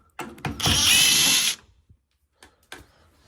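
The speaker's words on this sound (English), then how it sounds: "the first thing you want to do is you remove this one screw" A power tool whirs in one loud burst of about a second while backing a screw out of an LG washing machine, then a few faint clicks and light knocks of handling follow.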